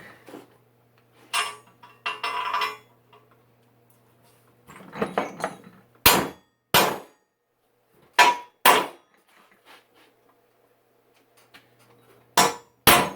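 Hammer blows drive a part into a square countersunk hole on an old plow being rebuilt for a Terramite: a few scattered knocks, then sharp, loud strikes in ones and pairs with quiet gaps between.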